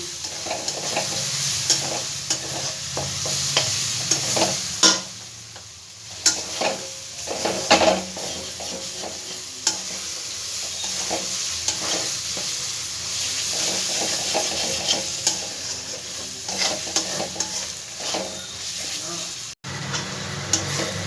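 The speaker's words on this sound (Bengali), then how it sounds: "এবার খুব ভালো করে মশলাগুলো সব আমি একসাথে ভেজে নেবো যতক্ষণ না মশলা থেকে তেলটা আমার ছেড়ে দিচ্ছে।" Spices for a soybean curry sizzle and fry in oil, a steady crackling hiss broken by scraping stirs of a spoon against the pan, continuous and close.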